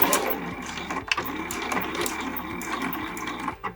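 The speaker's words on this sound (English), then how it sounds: "I'm just going to be sewing the sides and the bottom edge of these layers" A sewing machine stitches the sides and bottom edge of fabric layers for a mini tote bag, running continuously with a fast rhythmic mechanical clatter, close and steady, with no talking.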